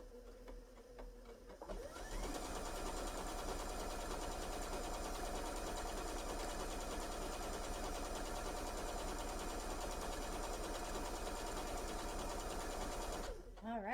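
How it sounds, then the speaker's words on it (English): A Bernina sewing machine running steadily for about twelve seconds as it sews an overedge seam on knit fabric, giving a continuous close mechanical whir that starts and stops abruptly, with no one speaking while it runs. "I'm going to sew that one."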